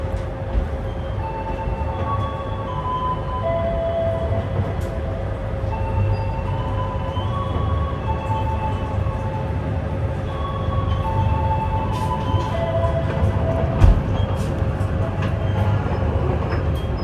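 Pandalungan passenger train runs steadily, with a continuous low rumble of wheels and carriage noise, faint tonal hums and squeals, and one brief louder clunk near the end.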